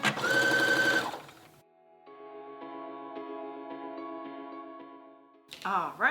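A sewing machine runs for a few seconds in a steady whirring buzz, stitching fabric at an even pace, close and moderately loud, with talk before and after.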